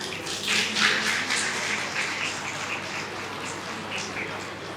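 Audience applause at a political rally in India, a steady, dense wash of clapping from a large crowd that holds at an even level throughout, with no talk over it.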